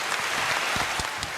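An audience claps in a steady, dense burst throughout, loud and close, with no voices over it.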